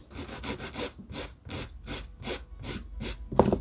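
A nail file rasps across fiberglass nails coated in white gel in a regular series of short back-and-forth strokes, close and fairly loud, with no talking.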